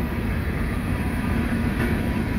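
Empty coal train led by Norfolk Southern locomotives rolling past, a loud steady rumble of cars and wheels on the rails, close by and continuous, no talk.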